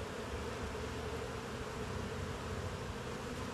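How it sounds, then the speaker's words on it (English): Honeybees buzz close and continuously around a beginner's hive as it is opened for inspection, a dense, even hum that holds steady without pause. "Ah, bees in the shirt."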